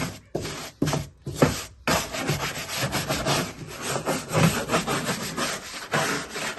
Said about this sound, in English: we are just gonna use the scrubber to agitate all this a little bit.